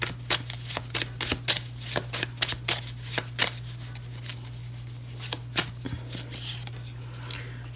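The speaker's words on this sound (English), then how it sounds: "Shuffle and split." Tarot cards riffle-shuffled in a series of short, crisp bursts, several quick rustling flicks spaced across the clip, close up over a steady low electrical hum.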